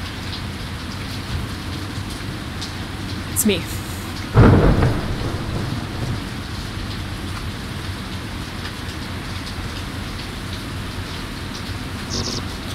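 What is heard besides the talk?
rain and thunder in Everhood video game cutscene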